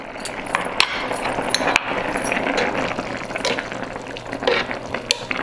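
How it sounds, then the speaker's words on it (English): A spoon stirs rice boiling in a pot of water, with close wet sloshing, bubbling and scraping clinks against the pot that keep going for several seconds without talk. "my rice is boiling right now. So at this time, I'm gonna mix it one more time."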